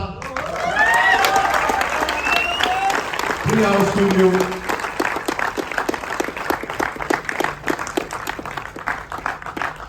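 Audience applause at a Gujarati film premiere night, a dense sustained crowd clapping that fills the room for the full length while a voice speaks over it.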